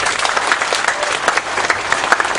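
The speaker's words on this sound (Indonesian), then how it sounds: "Tepuk tangan untuk Pak Nevi." A crowd at a Mocopat Syafaat gathering claps steadily for Pak Nevi, a dense, continuous round of applause with no break.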